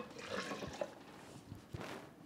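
A cup of water is poured into a bowl holding sea salt and garlic powder for a raw Alfredo sauce, giving a faint, brief splashing gush and some trickles.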